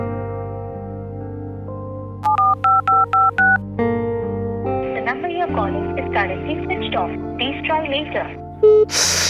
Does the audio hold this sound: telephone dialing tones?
yes